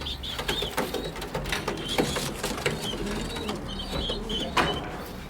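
A Carneau pigeon squab weighing about 700–800 grams, weaned only a day earlier, gives repeated thin squeaky calls up close, mixed with clicking and rustling in a loft.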